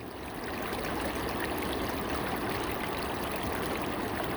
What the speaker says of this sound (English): Here I am in the Sacramento River. Beautiful, beautiful river here outside of Reading